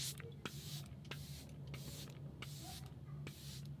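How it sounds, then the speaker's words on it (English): Quick pumps of a One Size Until Dawn makeup setting spray misted over a face, several short airy hisses in an uneven rhythm over a steady low hum, close by. "One Size Until Dawn setting spray."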